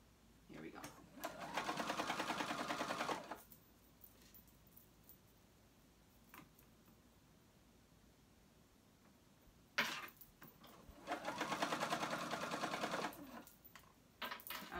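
A sewing machine bastes two fabric layers together for a flounce tee, running in two steady bursts of fast stitching, each a couple of seconds long, separated by a quiet pause with faint handling noise.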